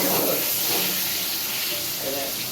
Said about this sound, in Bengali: আলুটা আমি ভেজে নিই